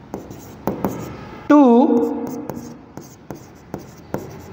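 Pen writing an accounting journal entry on paper, with scratchy strokes and taps between a man's spoken explanation in Marathi; one short loud squeaky stroke stands out midway.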